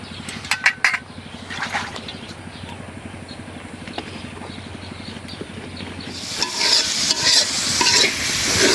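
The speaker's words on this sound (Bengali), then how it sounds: "এখন ভালো করে কষাই নিব।" Padma pangas fish with ginger-garlic paste, cumin paste, cardamom and cinnamon is stirred and sautéed in a pan, with scraping spoon strokes and a low sizzle that swells into louder, steady frying toward the end.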